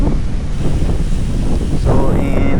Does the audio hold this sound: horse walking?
no